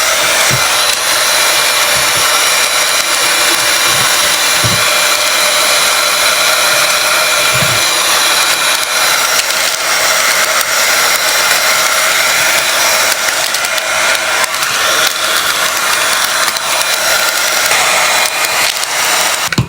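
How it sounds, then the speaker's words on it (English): A heat gun shrinking wrap on a sublimation tumbler blows a loud, continuous airy roar throughout, with a few dull knocks early on and no talking. "we're gonna go ahead and take a heat gun and then we're gonna shrink this"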